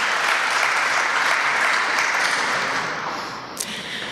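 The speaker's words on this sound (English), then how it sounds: "So please give a big applause" Steady applause from a crowd, dense clapping that holds evenly and then fades toward the end.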